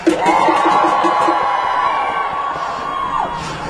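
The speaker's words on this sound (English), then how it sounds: "If you are a PPTA Wellington Region member, give me a cheer." A large outdoor crowd of striking PPTA teachers at a joint strike rally in New Zealand's Wellington Region cheers and whoops loudly. A long shout rises above the roar before it fades out.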